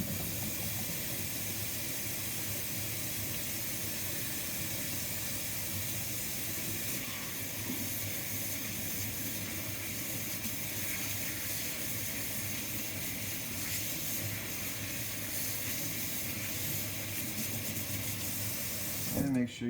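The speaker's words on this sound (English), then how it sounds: "Always wash your hands before you start doing anything." Hands being washed with soap under a running kitchen tap, a steady broadband rush of water holding evenly throughout with a brief clatter at the very end.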